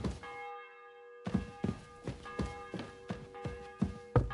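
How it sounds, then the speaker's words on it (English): Church bell ringing in the medieval video game Kingdom Come: Deliverance 2, a sustained bright metallic tone with ringing overtones, joined by a steady series of regular thudding footstep-like knocks, moderately loud and without talk. "bell's ringing for hands the 5th time."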